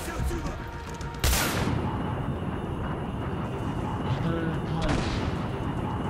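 Weapon fire in the shooter game Singularity bursts out in a loud, dense blast over a continuous roaring background, with a second sharp burst near the end.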